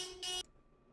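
A stream alert plays a honk: one short, harsh, buzzy blast that cuts off abruptly and is followed by near silence, with no voices.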